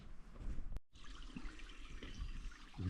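Water trickling at a trail water source, a soft continuous gurgle and dribble, faint and close, with a brief cut in the sound.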